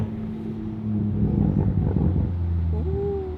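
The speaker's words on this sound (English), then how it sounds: "You get nice turbo noise too." Manual Toyota Mk5 Supra engine drones low and steady while driving, swelling in the middle, with a rising turbo whine near the end; faint voices underneath.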